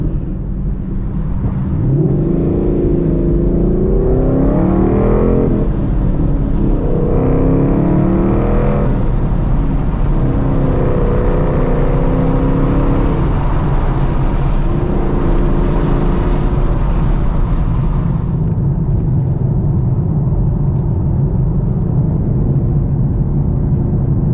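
A Ford Mustang GT with Corsa Xtreme axle-back exhaust rumbles loud and close, rising and falling through several deep revs before settling back to a heavy idle.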